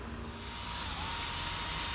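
A drill bit grinds into hard bearing steel that was annealed or normalized for a straight razor, giving a steady, rising abrasive scraping that builds slightly louder over two seconds with no voices.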